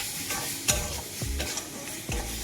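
Mango is stirred into suji in a hot pan, with rhythmic scraping strokes roughly every half second over a soft, close sizzle and no voices.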